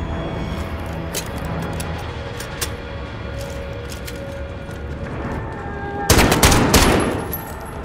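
Rapid automatic gunfire from Call of Duty: Modern Warfare on PC, with a steady clatter of shots under the game's background rumble and a loud, dense burst of fire near the end.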